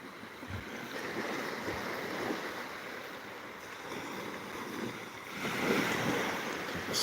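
Ocean waves wash steadily onto a beach in Thailand with a continuous broad roar, swelling slightly near the end, and some wind rushing across the microphone.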